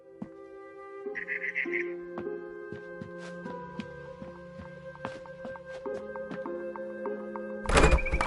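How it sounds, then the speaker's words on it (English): Small birds chirp outside a window in the video game What Remains of Edith Finch, a brief cluster of bright tweets over sustained music, with scattered knocks and a heavy thunk near the end. "Then I heard chirping outside my window."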